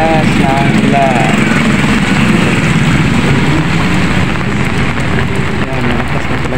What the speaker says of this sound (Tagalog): malakas na yung ulan guys, malakas na siya, malakas na ang ulan